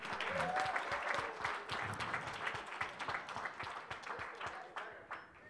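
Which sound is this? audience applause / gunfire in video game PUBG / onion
audience applause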